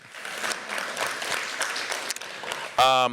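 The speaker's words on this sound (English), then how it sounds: "Applaud that." An audience at an arts and culture community event breaks into sustained applause, a steady broad patter, cut off near the end by a short voiced tone.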